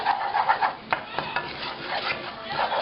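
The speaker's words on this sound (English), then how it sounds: "I'm going to add my flour. I'm just going to keep stirring" Flour is stirred into melted butter in a pan, making a soft sizzle under repeated scraping and light clinks of a utensil against the pan, with a few sharper taps.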